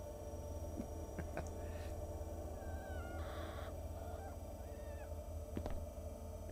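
A chicken character in a video game cries and squawks in short warbling calls over a steady humming game soundtrack, fairly close and clear, with no talk.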